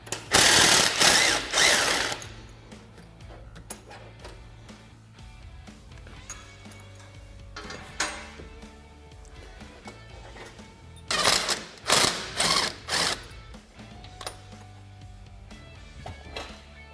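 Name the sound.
ratchet wrench removing bolts from Polaris RZR lower A-arms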